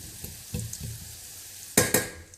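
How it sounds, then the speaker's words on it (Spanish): Garlic frying slowly over low heat: a soft, steady sizzle in the pan with gentle stirring scrapes, then two sharper, louder hisses of frying near the end. "A fuego lento, usted deja que el ajo se concentre bien."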